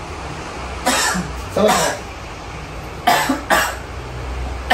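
A person being examined for sciatica coughs in harsh, close bursts, two pairs spread across the moment, with a brief spoken question in between.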